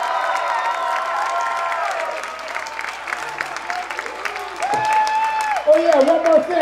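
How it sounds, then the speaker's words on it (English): A concert crowd at a HIRAX thrash metal show in Los Angeles applauds and cheers in a steady sustained roar, with a voice talking over the noise. "would you give a loud round of applause to Mr. Bill Metoyer?"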